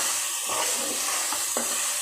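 Ingredients for hotel-style sambar sauté in hot oil: a steady sizzle runs throughout while a spoon scrapes and stirs the pan a few times, close by and with no talking.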